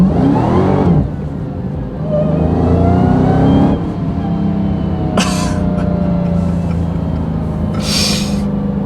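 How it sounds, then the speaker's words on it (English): A 2021 Dodge Charger SRT Hellcat Redeye Widebody, 797 hp, accelerates from inside the cabin, the engine note rising loudly through repeated surges and gear changes, with a few short sharp noises in between. "Go ahead and get a little acceleration here."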